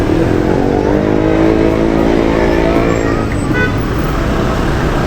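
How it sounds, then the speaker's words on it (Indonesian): Cars sit in a dense nighttime traffic jam on a Bandung street, with a steady, loud roar of idling and creeping engines and road noise that runs continuously throughout. "Duh, macet ini ya."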